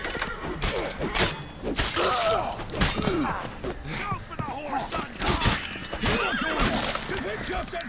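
A horse neighs and whinnies repeatedly in The Witcher 3 during a fight, the loud cries mixed with clattering hooves and combat noise, while a voice talks over it.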